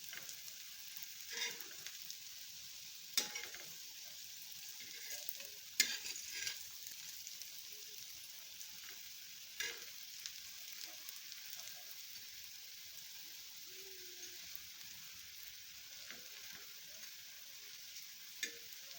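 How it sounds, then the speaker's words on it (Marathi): Thick potato slices for crispy batata kap sautéing in a pan: a faint, steady hiss of frying with occasional soft pops and clicks, quiet and continuous. "अशा पद्धतीने परतून घेते।"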